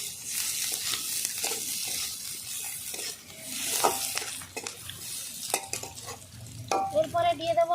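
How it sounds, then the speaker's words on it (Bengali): Chopped onions and green chillies fry in a hot pan with a steady sizzle, stirred repeatedly so a spoon scrapes and clinks against the metal, before fenugreek greens, potatoes and flat beans go in. "পেঁয়াজ কুচি আর লঙ্কা একসঙ্গেই দিয়ে দেবো। একই সঙ্গে আমি ভালো করে ভেজে নিচ্ছি সব।"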